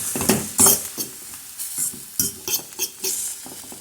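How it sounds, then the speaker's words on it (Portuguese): Mini cucumber leaves being stirred and sautéed in a pan over heat, a utensil scraping and clattering against the pan in irregular strokes over a steady, close sizzle. "Vamos ligar o fogo e mexer para terminar de refogar."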